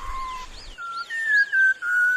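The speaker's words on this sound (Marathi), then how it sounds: "सह्याद्रीच्या खोल दरीतून शीळ कस्तुराची सुरेल शीळ कानावर पडते आहे" A whistling thrush (kastur) sings from a deep valley in the Sahyadri hills in a series of clear, sustained whistled notes that rise and fall in pitch. The song is fairly loud, alone, with brief pauses between phrases.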